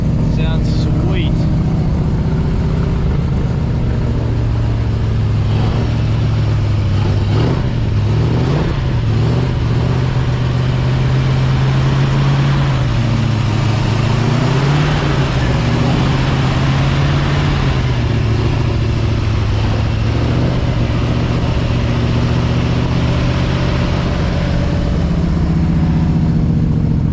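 A freshly rebuilt Ford 351 Cleveland V8 in an XD ute holds steady at roughly 2000 to 2500 rpm for cam break-in, a loud, constant, throbbing drone with slight pitch wavers; voices talk over it now and then.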